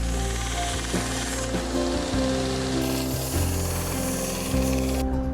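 Steady abrasive sanding of wood for a remote-controlled model airplane, continuous and fairly loud with slight shifts in pitch, no voices.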